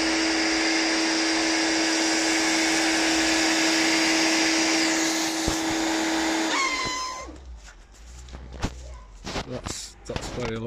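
Spear and Jackson pressure washer spraying through a Stonebanks snowfoam lance, a loud steady whine that cuts off partway, followed by quieter clatter and handling noises.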